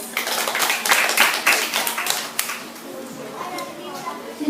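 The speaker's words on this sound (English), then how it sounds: "A round of applause, please." A burst of scattered hand clapping from a crowd at a class debate, with voices of children mixed in, thinning out after a couple of seconds.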